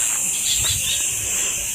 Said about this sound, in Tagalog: Yung tunog ng ibon.